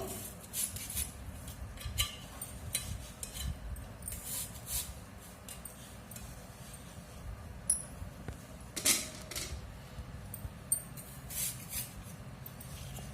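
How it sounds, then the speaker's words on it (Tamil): A knife slices a banana stem into rounds on a cutting surface, giving a series of soft, irregular cutting clicks and crunches close by, quiet and without talk. "இப்போ இதை நம்ம ரவுண்டாக நறுக்கணும்."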